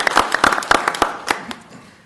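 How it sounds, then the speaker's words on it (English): A brief round of applause from the audience at a 2017 Commerce City election candidate forum, scattered distinct claps for a couple of seconds that soften and trail off. "So a round of applause"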